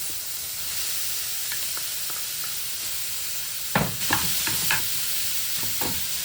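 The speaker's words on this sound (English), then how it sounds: "And now let's add the lamb mincemeat." Lamb mincemeat frying in vegetable oil with sautéed onion for keema samosa filling, a steady loud sizzle throughout, joined midway by a few sharp spoon scrapes and stirs.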